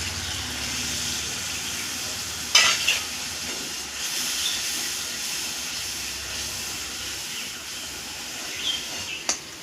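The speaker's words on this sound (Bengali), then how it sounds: "মশলাটা এবার আমি ভালো করে কষিয়ে নেব।" Spice paste with salt and a little water stir-fried in a pan for a cauliflower dish, a soft continuous sizzle and hiss with a few sharp spatula clinks against the pan, fairly quiet.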